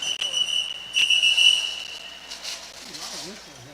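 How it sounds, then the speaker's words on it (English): Referee whistles shrill sharply at a women's flat-track roller derby bout, with a few short blasts early and then a longer trilled one amid arena crowd noise, while a voice talks underneath. "A lot of whistle here."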